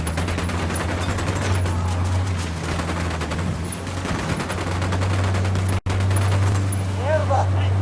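Ghost Recon Wildlands firefight with rapid gunfire rattling continuously over a steady low engine-like hum, dense and mid-distance, with a brief dropout near the end and voices speaking amid the shooting.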